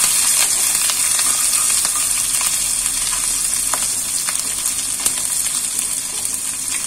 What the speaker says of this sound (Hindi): अब मैं इसमें ऐड कर दूंगी लहसुन, अदरक और हरी मिर्च. इनको हम हल्का सा भून लेंगे